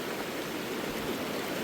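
A river swollen after rain upstream rushes past nearby, a dense steady hiss and wash of flowing water filling the clip without pause.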